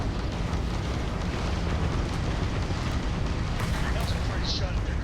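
A spaceship's grav drive jump in the video game Starfield: a dense, steady rumbling roar that fills the whole clip at even loudness, with a few brighter whooshing flickers near the end.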